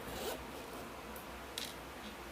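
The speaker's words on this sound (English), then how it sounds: "Let's open one zipper." A zipper on a TWICE Candybong Z lightstick pouch is slid open in one close, steady pull, a soft rasping run with a brief louder catch near the end, and no voices.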